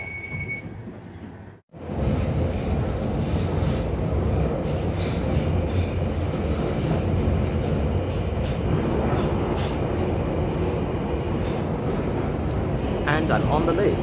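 A London Underground train runs through the Kennington Loop near Waterloo, a steady loud rumble and rattle of the carriage after a brief silence, with faint wheel squeal late on.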